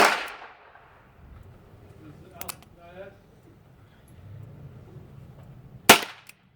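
A pistol fires a primer-only round with a single sharp, short pop near the end, following a brief crack at the start, with quiet background murmur between.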